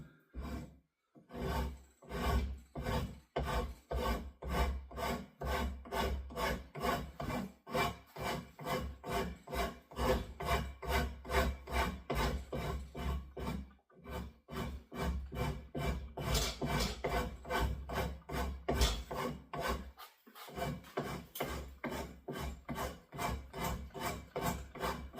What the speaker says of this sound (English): I'm going to go ahead and start with this rasp here. I'm going to see if I can rough it up a little bit.